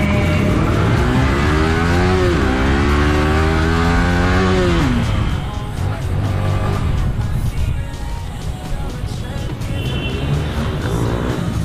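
A loud motorcycle engine on a crash-damaged bike revs up and down through rising and falling pitch sweeps, then settles into a rough, steady idle rumble close by.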